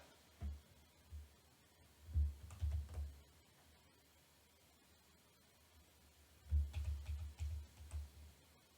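Soft, quiet keyboard typing in two short bursts of rapid keystrokes, separated by a few seconds of near silence, while typing code shortcuts in Visual Studio.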